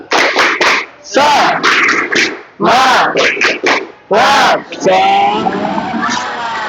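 Children in a classroom perform a rhythmic spirit clap, sharp bursts of clapping in quick patterned groups alternating with loud chanted voices, ending in a sustained shout.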